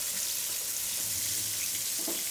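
Cubed steak dredged in flour browning in hot vegetable oil in a pan, a steady, close sizzle and crackle running throughout with no talk.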